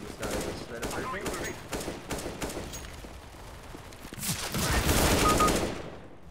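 Counter-Strike gunfire on the Dust II map: rapid bursts of shots, sparse at first and then a denser, louder volley near the end, with a voice talking over the action.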